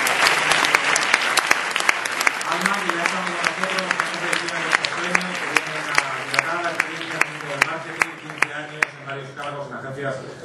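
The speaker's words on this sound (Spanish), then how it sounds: "Un aplauso para ella, por favor." Sustained audience applause fills the hall at the 2012 National Marketing Awards ceremony, dense and steady throughout with a faint tonal background underneath.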